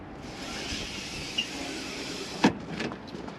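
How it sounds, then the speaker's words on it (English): Electric step on an Elddis Signature CV80 motorhome sliding out: a steady, fairly quiet motor whir runs throughout, with a sharp clunk near the end as it stops. "Got the electric step, which switches just here."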